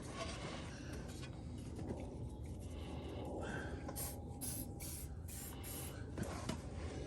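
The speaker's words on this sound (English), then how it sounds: "spray up there, spray on them" A steady hiss of aerosol lubricant spray runs throughout, applied during an oil and filter change on a BMW GSA motorcycle, with several short bursts near the end standing out sharply against a constant background hum.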